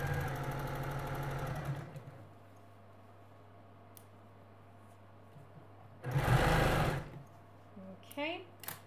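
A sewing machine stitches a Dresden Plate quilt seam in a quick, steady whir for about two seconds. Quieter handling noises and a low hum follow, then a short loud burst near the end.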